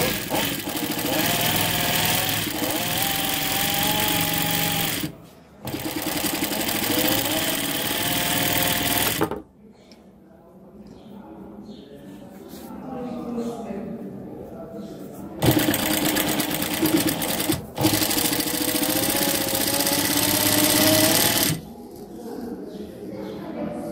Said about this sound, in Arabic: كذا غادي نخيط الحزام ديال الخلف.